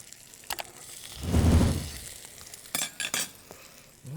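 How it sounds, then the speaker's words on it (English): A shrimp burger patty drops into hot oil with a soft thud and a swelling sizzle that peaks then fades, followed by a few light clinks of a utensil. "take our patty, drop it right into our oil"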